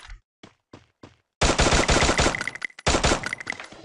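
Automatic gunfire in the Free Fire mobile battle-royale game. A few short, sharp single shots come first, then two loud, sustained rapid-fire bursts, with no one speaking.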